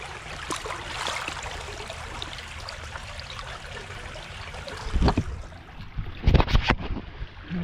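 Creek water runs through a culvert intake grate just cleared of a clog, giving a continuous soft trickling, rushing flow. Some louder splashing and knocking bursts come near the end.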